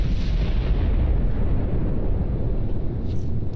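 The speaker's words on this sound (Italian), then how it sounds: "Quel maledetto cannone." Cannon fire in the video game Warhammer 40,000: Space Marine: a loud, continuous booming rumble of artillery that stays heavy throughout, with no talk over it.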